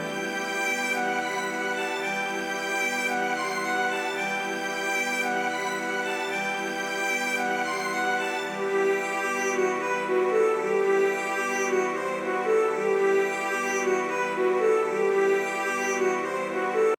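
Sustained string chords pitched up seven semitones ring steadily through a hip-hop beat section, layered bright and continuous without any voices.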